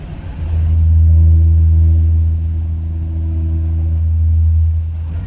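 Loud, steady low drone of car tyres rolling over a raised white lane line on a road near Barcelona, Spain, a sustained humming rumble from inside the car lasting several seconds.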